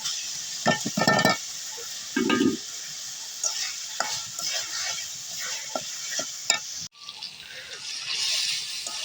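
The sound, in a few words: spice paste being stirred and fried in pan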